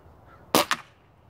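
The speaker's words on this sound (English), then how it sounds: "Umarex Gauntlet 22 caliber, pre-charged pneumatic pellet rifle." An Umarex Gauntlet .22 caliber pre-charged pneumatic pellet rifle fires one sharp, crisp crack outdoors. A quick second snap follows right after, likely the pellet striking its target, and all else is near silence.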